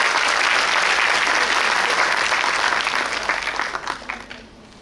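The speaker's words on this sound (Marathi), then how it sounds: "त्याच्यावर फक्त जोरदार टाळ्या" A crowd at a commemoration of Ahilyadevi Holkar applauds loudly and steadily, the dense clapping thinning out and fading over the final second and a half.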